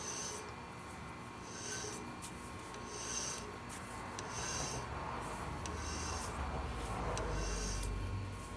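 Steel tap cutting threads into a custom kegerator beer tap handle, a steady close rasping and rubbing that carries on through the whole stretch with no talk.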